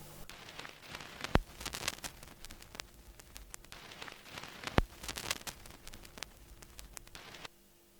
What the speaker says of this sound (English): I decided to add a vinyl sound